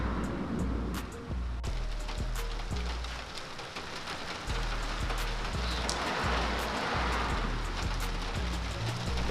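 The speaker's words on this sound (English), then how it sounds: "now that rain hitting" Rain patters steadily on a Honda Civic Si FA5 parked outside during tail light work, a dense close hiss of drops hitting the car body, with a regular low thumping running underneath throughout.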